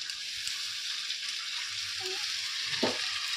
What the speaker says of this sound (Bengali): ভালো করে কষিয়ে নিতে হবে মশলাটা